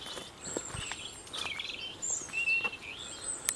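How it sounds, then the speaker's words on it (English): Several birds chirp and sing intermittently over a quiet woodland background, the calls light and fairly distant, with faint rustling underneath. "just listening to the bird song"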